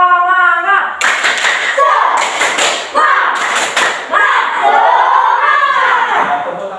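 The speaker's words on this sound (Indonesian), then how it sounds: "ayo kita tepuk semangat, biar semangat" A primary school class stands and performs a rhythmic spirit clap, sharp bursts of many hands striking together in grouped patterns, loud and close, mixed with children's chanting voices.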